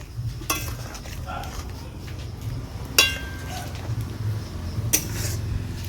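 Metal spoon clinks and scrapes in a pan while fried okra is stirred into bubbling masala gravy, a few sharp clatters amid a soft simmer, with someone talking over it.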